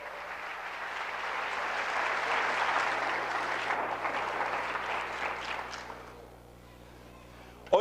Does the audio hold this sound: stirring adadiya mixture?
no